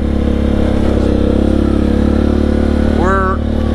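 A Suzuki KingQuad ATV engine drones steadily as the quad is driven slowly on a trail, a close, even motor hum with a brief whistling squeal near the end and no talk over it.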